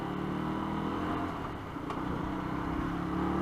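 A motorcycle engine with a stock exhaust idling and running steadily, a low, moderately quiet rumble that swells slightly toward the end, with no talk over it.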